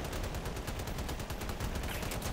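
Trombone weapons fire in a video game with rapid, dense bursts of shots that sound like continuous gunfire, steady and loud throughout the whole stretch, with no voices.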